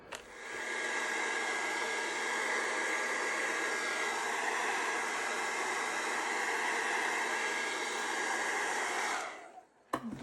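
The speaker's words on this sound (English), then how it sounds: "you can speed it up with the hairdryer" A hair dryer runs close by with a steady, loud whooshing blow for several seconds, drying a gel plate image transfer, then clicks off near the end.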